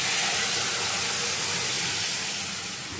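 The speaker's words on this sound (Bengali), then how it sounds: "দেখুন গরম হয়ে গেছে, এবার আমি মশলাটা দিয়ে দেব।" Spices hitting hot oil and butter in a pan, a loud steady broadband sizzle that holds throughout and eases slightly at the end, with no talk.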